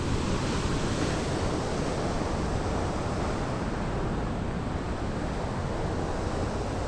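Rushing water pours through the open gates of Harike dam in a loud, steady, unbroken roar that continues without pause and with no voices.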